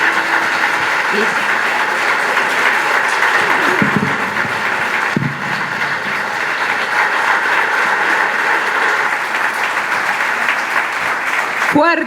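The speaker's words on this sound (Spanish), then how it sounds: "Fuerte, muy fuerte el aplauso." A crowd applauds loudly and continuously at the opening of a book fair, a dense wash of clapping that fills the space, with a few faint voices and a brief shout mixed in.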